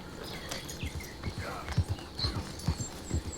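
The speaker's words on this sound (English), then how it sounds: "Let's call our horse and let's go for a ride." Horse hooves clip-clop at a steady walking pace through a forest in a PC video game, a run of soft, moderately close thuds under faint ambient background.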